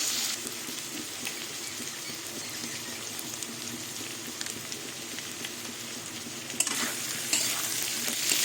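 Cumin powder, coriander powder and turmeric frying in hot oil, a steady close sizzle with soft stirring scrapes, running continuously with a brief louder clatter near the end.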